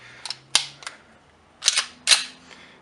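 Cleaned Springfield Armory XD 9mm pistol being dry-fired, a few sharp metallic clicks and snaps from the slide and trigger, close and isolated in a quiet room.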